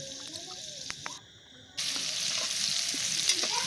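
Potatoes, bitter gourd and slit green chillies fry in hot oil, a loud steady sizzle that briefly cuts out then returns, with scattered scraping clicks of stirring close by.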